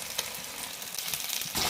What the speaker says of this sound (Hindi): उल्टा के फिर तकरीबन 4-5 मिनट तक इसको हल्की आंच पे अच्छी तरह फ्राई करना है ना